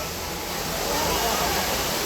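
The Jummapatti waterfall between Neral and Matheran in the monsoon, a dense steady roar of falling water filling the scene, loud and continuous.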